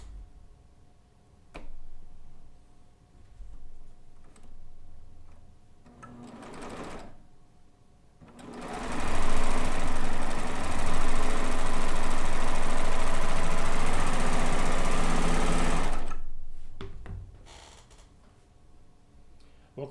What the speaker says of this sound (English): what I'm sewing on right here is the Euphoria. It's the cover stitch only machine